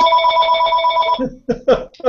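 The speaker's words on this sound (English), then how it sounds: "Whose phone's ringing?" Telephone ringing during a talk show recording, a loud repeated electronic bell tone lasting about a second, followed by close talk.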